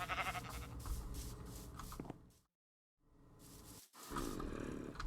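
Blocky Minecraft sheep bleat repeatedly in short game-sound calls, moderately loud, with a brief silent gap before the bleating resumes.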